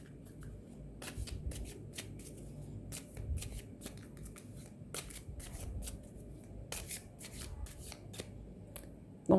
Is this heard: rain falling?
no